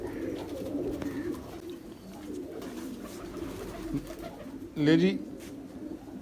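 Young pigeons coo softly amid a low murmur of background noise, with one fuller coo standing out near the end and someone speaking briefly.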